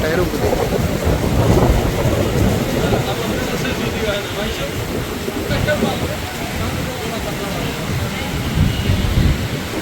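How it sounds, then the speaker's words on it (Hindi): Heavy rain pours steadily in Medina, with water running over the road in a dense, continuous wash of hiss and rumble as someone talks over it. "अभी बारिश हो रही है, कंटिन्यू बारिश शुरू है।"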